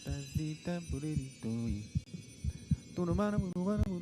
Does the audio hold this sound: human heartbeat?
yes